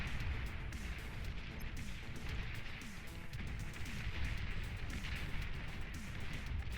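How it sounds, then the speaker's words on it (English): Rocket bot volleys and artillery in the real-time strategy game Beyond All Reason, a dense, continuous barrage of overlapping booms and blasts pounding stationary tanks, loud and unbroken throughout. "those rocket volleys just absolutely obliterating these stationary tanks"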